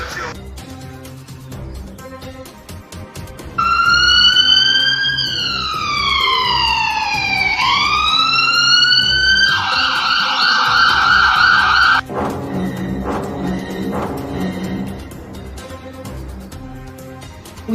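An ambulance siren wails loud and close, sweeping up and down in pitch before switching to a faster warbling pattern, then cutting off abruptly as other noise continues.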